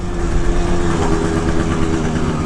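A Honda Zuma scooter engine hums steadily while the scooter is ridden, with the throttle eased off as it coasts. The drone is close and even, with a constant low rumble and road noise and no clear revving.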